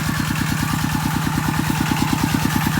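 A walk-behind tractor's small single-cylinder engine runs steadily nearby, a rapid, even chugging thump that stays loud and unchanging throughout.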